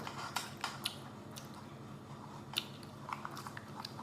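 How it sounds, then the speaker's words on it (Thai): Close, crunchy chewing of rice-field snails pounded with rice noodles, with irregular crisp bites and cracks, faint and spaced out over a quiet background. "เวลาเราเคี้ยวมันจะกรุบกรุบ"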